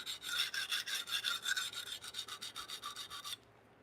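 A knife being sharpened on a whetstone, with rhythmic back-and-forth gritty scraping strokes, about fifteen quick passes close up at an even pace, stopping abruptly, with no talking.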